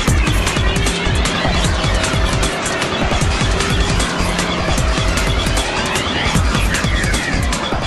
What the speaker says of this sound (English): this is a BMW, just took off at a very high rate of speed